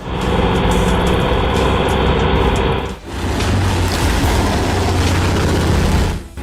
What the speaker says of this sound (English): The thunderous roar of the DT tractor engine signals its readiness to tackle any